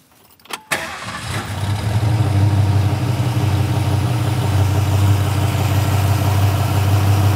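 A 1966 Shelby GT350 Mustang's 289 Hi-Po V8 with mechanical lifters cranks and catches after a couple of quick bursts, then settles into a steady, loud, raspy idle with a ticking mechanical edge.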